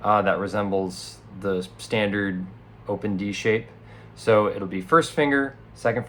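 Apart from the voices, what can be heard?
No everyday noises stand out.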